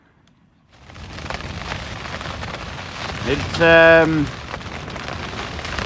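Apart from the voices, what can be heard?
heavy rain during storm while camping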